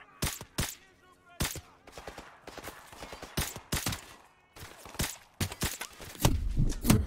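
Gunfire in the Call of Duty 4: Modern Warfare campaign, with sharp, loud shots fired in scattered bursts and single cracks through the whole stretch, ending in a denser rumbling volley.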